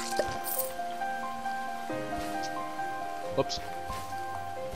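Rain falls in the video game Starbound as a steady patter with scattered drips, under looping game music tones, while a player talks over it briefly.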